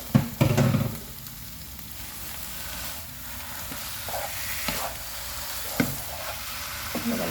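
Beef pieces dropped into fried spice masala for a beef curry, a sharp sizzle burst at the start, then steady soft frying hiss with occasional scraping stirs, no voices.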